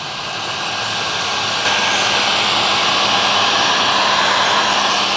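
A heat gun blows hot air across plastic ATV body panels during restoration, a steady, loud broadband rushing roar with a constant fan whine that continues without a break.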